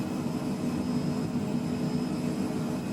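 A Phenom 100 jet in Microsoft Flight Simulator hums with a steady engine whine and a thin high tone as the throttle eases back, an even, moderate drone with no voices.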